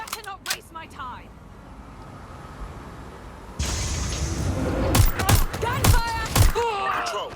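Gunfire breaks out in Watch Dogs Legion: a quiet lull, then a burst of sharp, close shots in rapid succession. Voices talk before and during the shooting.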